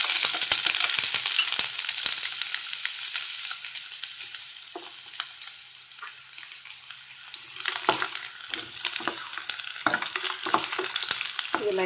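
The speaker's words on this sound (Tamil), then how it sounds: "இப்போ அதே எண்ணெயில் பூண்டு போட்டு நம்ம பொரிச்சு எடுத்துடலாம்." Garlic frying in hot oil that has just been used for onions, a bright continuous sizzle with spattering pops and a few utensil clinks, steady and close with no talking.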